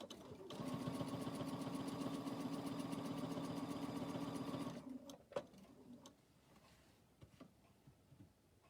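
A sewing machine quilting with ruler work runs in a steady rapid stitching drone for about four seconds, then stops, followed by faint clicks and handling sounds.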